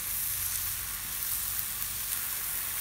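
Wagyu London broil sizzling in its drippings, a steady, quiet crackling hiss that continues without a break and is heard alone.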